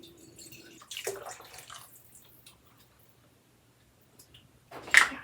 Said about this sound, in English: I think I'm going to add about 1 more cup of water.